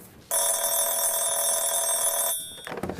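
A telephone bell rings loudly and continuously for about two seconds, a bright metallic trill close by, then cuts off as noisy sounds follow.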